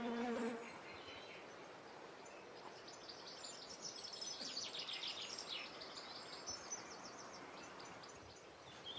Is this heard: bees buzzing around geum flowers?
yes